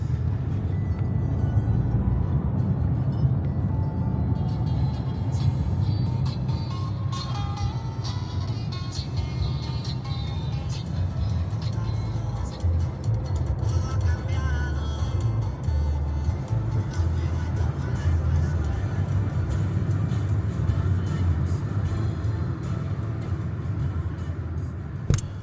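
A car cruises steadily on a long road trip through the Canadian wilderness, its engine and tyre rumble forming a constant, even drone with no pauses.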